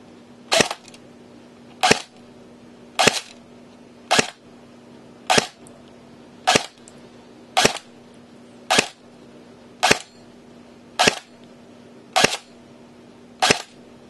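A G&G FN FNC airsoft rifle firing .20 g BBs through a chronograph, twelve sharp single shots at an even, unhurried pace of about one per second, loud and close over a faint steady hum.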